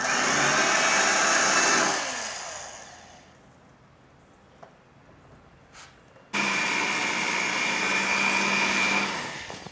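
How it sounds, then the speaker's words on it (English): Drill boring small pilot holes into the spot welds of a wrecked Toyota Camry's quarter panel, a loud steady whine for about two seconds, then a quiet pause, then a second sustained run to the end. "now we're doing a little pilot hole for all the spot welds"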